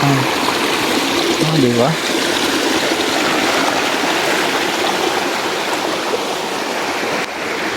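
A mountain stream rushes steadily and loudly throughout, a close, continuous wash of flowing water, with a brief voice speaking near the start.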